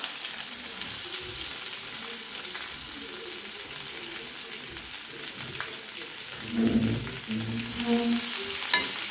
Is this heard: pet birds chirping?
no